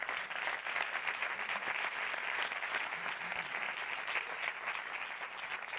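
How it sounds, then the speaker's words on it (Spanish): Sustained audience applause fills a closing awards gala of a short film festival, steady and dense clapping from a large crowd with no talk over it. "Un fuerte aplauso, por favor."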